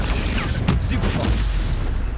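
A stunning spell is cast in a fantasy wizarding video game, giving a dense whooshing burst with a low boom at the moment of release, set in a busy battle soundscape that stays loud throughout.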